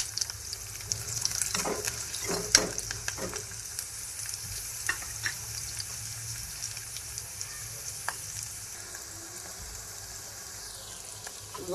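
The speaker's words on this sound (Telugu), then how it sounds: "ఇదిగో నూనె వేడైపోయింది. నూనె ఇట్లా ముందుగా ఇప్పుడు మనం ఉల్లిపాయలు వేసుకుంటామా." Onions frying in hot oil give a steady, crackling sizzle, broken by scattered sharp pops and stirring clicks, close up with no talk.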